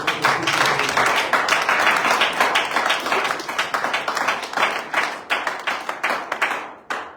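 A church congregation claps and cheers to acclaim the Lord, dense overlapping applause sustained close and loud before thinning out and stopping near the end.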